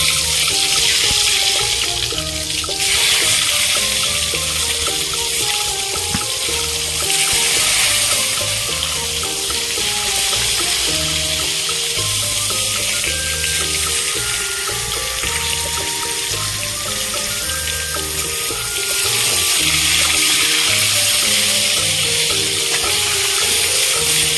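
Eggplant slices fry in hot oil for a Bengali vegetarian meal, giving a dense, continuous sizzle and crackle close up that swells and eases slightly throughout.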